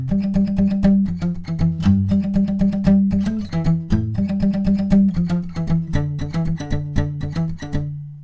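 A song's main riff on guitar without a capo, played at full speed: quick, rhythmic plucked and strummed notes, loud and close, unaccompanied by speech.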